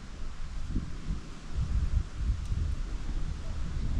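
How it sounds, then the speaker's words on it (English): Wind blowing outdoors at the Copán Mayan ruins in Honduras, a steady low rushing roar with buffeting gusts against the microphone throughout. "It's nice and windy outside"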